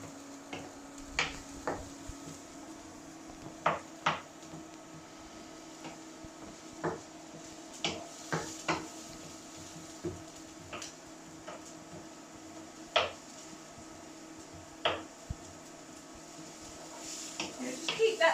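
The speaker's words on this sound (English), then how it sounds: "So we just sort of keep prodding the onions so they break down a bit if you've got slices. And give that a good stir." A spoon stirs sliced onions in oil in a pan for tomato sauce, with scattered light taps and knocks against the pan over a faint low sizzle, quiet and close.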